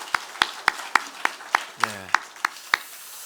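Church congregation clapping together in a steady, evenly spaced rhythm, about ten sharp claps at a moderate pace, with a brief low voice partway through.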